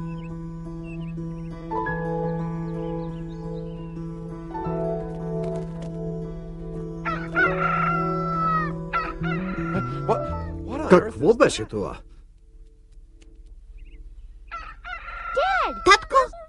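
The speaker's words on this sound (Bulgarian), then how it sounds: "Татко, на покрива има петел," A rooster perched on a roof crows in an animated cartoon, with long, drawn-out calls over music, loud and close, while characters speak in between.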